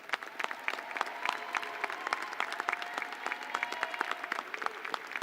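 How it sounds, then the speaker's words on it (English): A crowd at a commencement ceremony for returning graduates claps steadily, sustained applause with individual sharp claps standing out, a few faint voices mixed in. "everyone a round of applause for all of these graduates"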